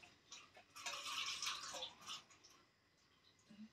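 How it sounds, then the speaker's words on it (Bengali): Rice being rinsed by hand in water in a home kitchen, a brief burst of close splashing and swishing in the middle, with quieter water movement before and after. "এখন চালটি ভালোভাবে ধুয়ে নেই"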